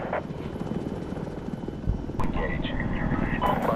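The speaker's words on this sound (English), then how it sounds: "the next sequence with the Apache helicopters that are moving on and attacking a village" Apache attack helicopters in a combat video game roar steadily with a loud rotor and engine drone, joined by bursts of weapon noise and radio chatter as they strike a village.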